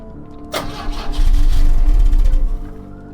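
A car engine in the game The Drifter, fuelled with old petrol, cranks with a sharp initial burst, then churns into a low, rough rumble for a couple of seconds without catching, before fading back down.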